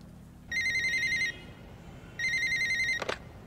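A telephone rings in an anime scene from Black Lagoon: two bright electronic ring bursts separated by a short pause, then a brief sharp click, with no talk heard.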